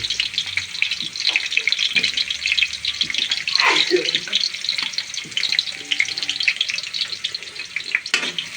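Onions frying in a pan give a steady, broad hiss that runs the whole time with no talk over it, and there is a brief clink partway through.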